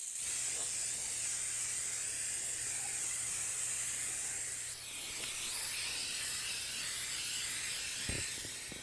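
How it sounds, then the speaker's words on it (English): A steady, loud hiss of an aerosol traction spray on vehicle tires runs almost continuously, with a brief shift midway and a short pause near the end. "So I'm just going to go ahead and spray the tires"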